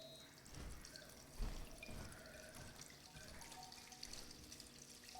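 Water drips and trickles in a room of the horror game Dead Letter Dept, a steady faucet-like patter with scattered louder drops over a murky ambient background.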